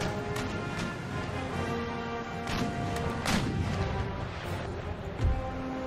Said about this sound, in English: So you fire. and just do good old round shot.